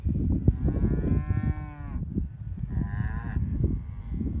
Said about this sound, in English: You got the cows over here that I'm disturbing.